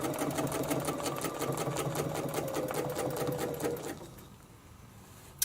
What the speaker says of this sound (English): Here we go, stitch the leaf.